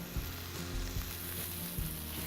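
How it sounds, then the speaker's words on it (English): Steady sizzling and crackling of pork short ribs frying in a hot pan, with a few soft clinks and stirring sounds. "That sizzle is definitely what we want to hear."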